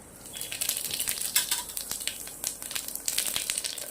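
Half a spoon of cumin seeds hits hot groundnut oil and sets off a lively crackling sizzle with dense pops, swelling and dipping over a few seconds, with no voices.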